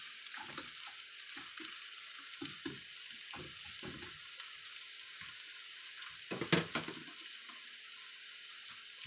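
Onion fries in a pan, a faint, low sizzle with scattered soft scrapes and one brief louder stir near the end, no talking.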